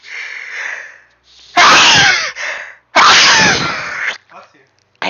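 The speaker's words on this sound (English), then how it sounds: "You can sneeze." Two loud, sharp human sneezes burst out one after the other, each explosive and breathy, with quieter murmured talk and breathing before and between them.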